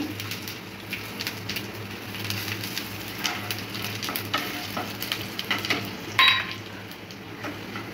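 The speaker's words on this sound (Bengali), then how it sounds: "এবার ভালোভাবে এতে নেড়ে নেব।" Spices and whole cashews sizzle and crackle steadily in a hot pan, with occasional scraping as they're stirred; a brief metallic clink near the end.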